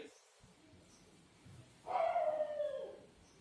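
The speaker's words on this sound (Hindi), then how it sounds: "अरे क्या कुत्ता चालू है इतना जोर से" Dog barking somewhat distantly: a single drawn-out bark that rises into a short howl, over a quiet indoor room tone.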